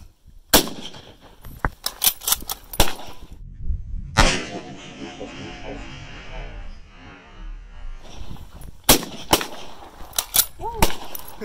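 Gun blasts fired at a camera inside a protective rollcage, several sharp loud close cracks in clusters with a longer rumbling stretch in between.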